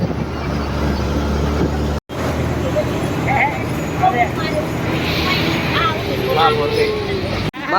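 Inside a crowded bus on the way to college, a continuous engine and road rumble runs beneath scattered chatter from passengers, with brief dropouts in the sound.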